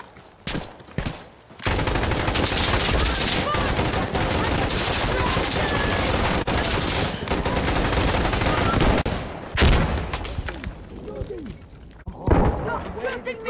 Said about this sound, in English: Stop shooting me, you idiot!